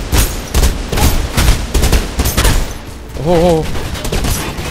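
Enemy gunfire in Mirror's Edge crackles in repeated bursts from nearby, loud and uneven, while a voice briefly exclaims over the shooting.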